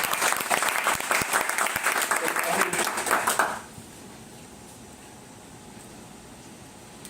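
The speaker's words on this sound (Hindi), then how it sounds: "ताली बजाइए जोरदार ऑर्गेनाइजेशन" An audience at an LIC insurance seminar gives loud, dense applause for about three and a half seconds, then the clapping stops abruptly and leaves a quiet room hum.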